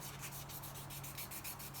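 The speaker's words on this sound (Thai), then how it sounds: "ก็ขัดกระดาษทรายทีเพื่อ ให้มันกลมกลืน สวยงาม" Sandpaper rubs steadily over a worked surface, smoothing uneven spots before polishing, in repeated back-and-forth strokes at a fairly even, close level with no voices.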